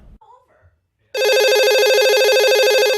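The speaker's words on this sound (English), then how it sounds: "It starts with a phone call." A telephone rings loudly with a rapid warbling electronic trill that starts abruptly and holds steady, after a moment of faint voices.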